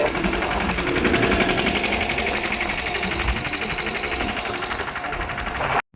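A tractor engine runs steadily with a rapid, rattling mechanical chug, loud and close, continuous for several seconds before stopping abruptly.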